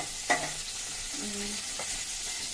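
Whole uncut dried chillies fry in hot oil for cabbage roti pachadi, a steady close sizzle punctuated by a sharp pop near the start and a few smaller crackles.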